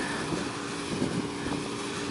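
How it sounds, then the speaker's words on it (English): Steady broadband whooshing hum of an air conditioning unit at a university housing complex running continuously, loud and even, with no talking. "that's the air conditioning running"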